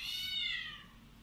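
A cat gives a single drawn-out meow, close and fairly clear, falling in pitch as it fades over a low steady hum from a GPU mining rig.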